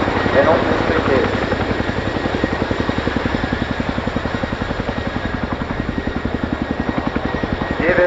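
RAF Boeing Chinook HC.6 twin-rotor helicopter in a display flypast at an air show, a loud, rhythmic rotor thudding with engine roar that pulses steadily throughout, with voices over it.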